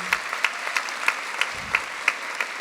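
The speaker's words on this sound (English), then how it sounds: "round of applause for Ralph van Dijk. And Francis Cody." Sparse, slightly distant audience clapping at a marketing industry conference session, greeting presenters Ralph van Dijk and Francis Cody, with separate claps landing at a fairly regular pace over a steady room murmur.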